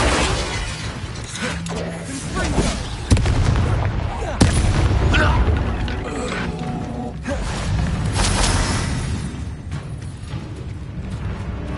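Spell blasts from Hogwarts Legacy, Confringo and Bombarda explosions, bursting repeatedly as loud booms and shattering cracks amid battle noise, with a player's voice calling out incantations between the impacts.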